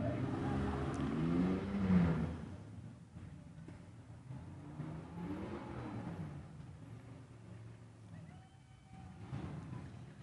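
Sixty-five car club vehicles rolling past in a Veterans Day parade, engines rumbling and swelling as they approach, with voices talking over the passing traffic.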